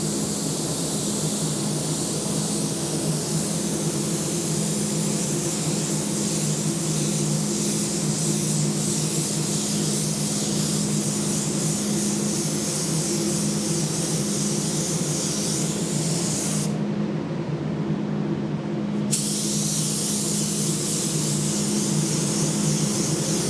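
A spray gun applies PPG Deltron solvent base paint in a continuous loud hiss that runs for most of the clip, cut by a brief pause near the end before spraying resumes, with no speech.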